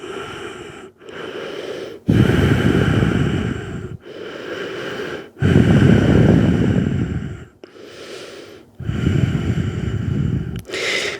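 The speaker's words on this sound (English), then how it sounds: "Breathe in, breathe out. Inhale and exhale." Slow, deep breaths during a yoga flow, with long audible inhales and forceful exhales alternating several times, close and clear with no talking.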